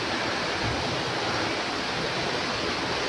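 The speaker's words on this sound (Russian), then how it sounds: "Вот течет река Свирка, несет свои воды к Черному морю." The Svirka river flows through the rocky Svirsky gorge near Lazarevskoye as a steady, dense rush of water. The broad roar is close and continuous, with no pauses and no voices.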